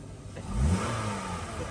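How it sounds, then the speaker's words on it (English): A No Prep Kings drag race car's engine revs up hard, climbing to a loud peak in the middle and then holding a strong, steady roar, heard close by. "Way to rev that thing up."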